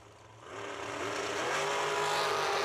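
Drag race cars launching and accelerating hard down the strip at a summer fling event, the engine roar swelling over a couple of seconds from a moderate distance.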